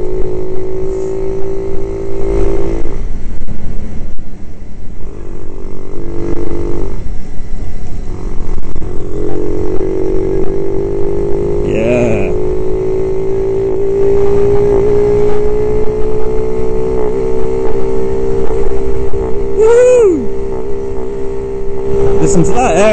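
A Jincheng M50 monkey bike engine drones and revs loudly up close, pitch rising and falling through gear changes, with faint wind noise.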